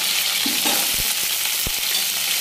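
Cut cauliflower florets frying in a hot pan, a loud continuous oily sizzle with a few soft clunks and scrapes from stirring, close by and with no talk.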